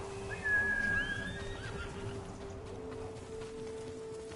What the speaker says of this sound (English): My horse here.